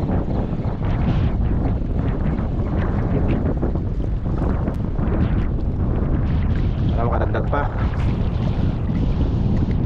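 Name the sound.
strong wind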